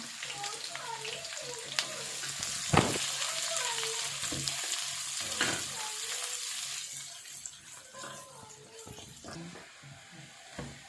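Onions sizzle and crackle steadily in hot oil with cumin and black pepper, a soft frying hiss broken by occasional stirring clatters, while a voice talks over it.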